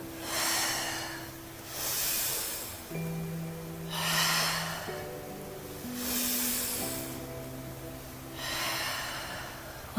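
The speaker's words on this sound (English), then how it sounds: "Inhale, exhale, inhale." Slow, deep breathing during a gentle exercise session, with five or six long airy inhales and exhales in an even rhythm, close and soft, over quiet background music.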